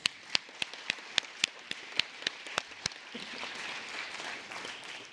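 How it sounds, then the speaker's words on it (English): Sharp, evenly spaced claps ring out for about three seconds at a Florida Realtors opening session honoring Mayor Suarez, then blur into a softer, diffuse patter of audience applause. "Let's have another round of applause for Mayor Suarez"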